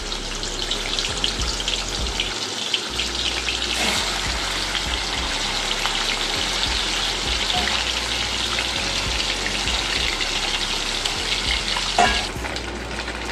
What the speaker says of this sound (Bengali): তেলটা গরম হয়ে গেছে। আমি মাছগুলো একে একে ছেড়ে দিচ্ছি।